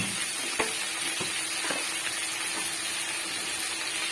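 Onions fry in a pan with a little salt, giving a dense, even, close-up sizzle with a few faint taps and scrapes from stirring.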